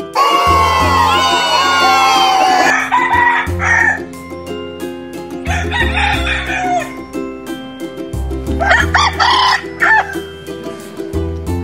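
Chicken sounds from a kids' alphabet animal video, beginning with loud rooster-like crowing and calls, then short bursts of clucking over a repeating musical backing track.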